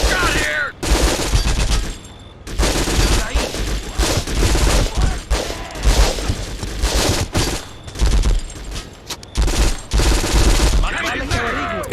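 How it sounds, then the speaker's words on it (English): Dense bursts of gunfire in the shooter game Conflict: Global Storm, loud rapid volleys and automatic fire in repeated waves with short gaps, with voices shouting over the battle. "I'm getting shot here!"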